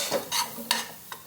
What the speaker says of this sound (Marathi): यामध्ये रसम पावडर घालू 2 चमचे. हे थोडं आता भाजून घ्यायचं.